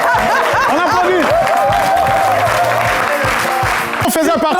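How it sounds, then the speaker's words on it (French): A studio audience at a French-language TV talk show applauds steadily, the clapping running underneath loud voices, cheers and some laughter for the whole stretch. "On applaudit."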